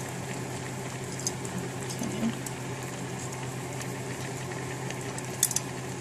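Fish sauce for Vietnamese cá kho simmers in a pan with a steady, soft bubbling hiss and a few faint pops, close and even throughout.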